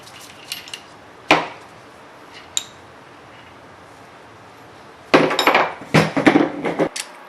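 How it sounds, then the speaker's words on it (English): Metal tools clank and clink while a bolt on a car coilover is loosened: a couple of sharp isolated knocks early, then a busier burst of close metallic rattling and clatter near the end. "I'm gonna go ahead and loosen up the bolt."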